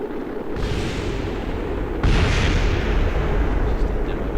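Explosions in Kerbal Space Program: a continuous roaring rumble with a sudden heavy boom partway through, loud and close, with no talking.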